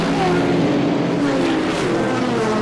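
GT and prototype race cars, including a BMW M4 Silhouette and a Mercedes, pull away at a race start at Zandvoort circuit; a dense, continuous engine roar with rising tones, loud and steady throughout.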